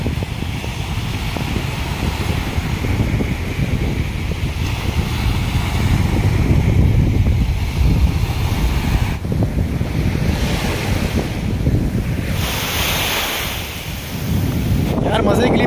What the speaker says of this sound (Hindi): लेकिन यार ये लहरों को आप देखें, चल के आपको दिखाता हूँ